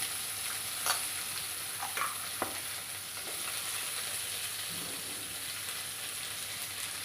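Tomato frying in a pan with green chili and garlic: a continuous faint sizzle with a few light scrapes and taps of a spoon stirring, no talking.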